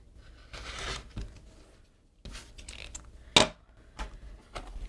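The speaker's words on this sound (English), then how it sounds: "So now let's just trim the excess off on this side." Quilt fabric for a flying geese sawtooth star block being trimmed with a cutter along a ruler: several short scraping and clicking bursts, close and fairly quiet, with pauses between strokes and one sharp click.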